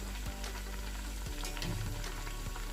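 Rice vadas deep frying in oil over a medium flame, a steady soft bubbling sizzle with a few faint clinks of a utensil.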